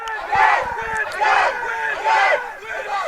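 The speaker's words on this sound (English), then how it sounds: "You can hear the cheer starting right now." A crowd of UBC supporters chants a rhythmic team cheer at a university sports match against SFU. Loud, repeated group shouts come in three swelling waves.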